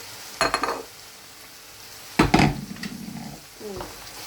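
Peppers drop into a hot pan in two bursts of clatter and sizzle, followed by stirring scrapes and a low frying hiss, close by and without talk.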